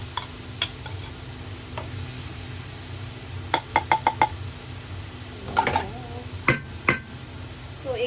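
Garlic sautés in oil in a pan, a soft continuous sizzle punctuated by sharp clicks and taps of a utensil against the pan, occurring in small clusters.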